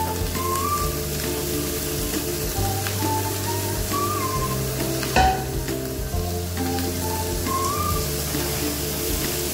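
Boiled crab pieces and potatoes sauté with spices in a pan, making a loud, continuous sizzle with stirring scrapes and a brief clank near the middle.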